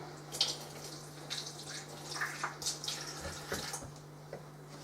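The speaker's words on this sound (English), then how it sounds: "just give it a rinse under the tap." A pepper rinsed under a running kitchen tap: a steady, faint stream of water with scattered small splashes and drips as it hits the vegetable, heard alone without talk.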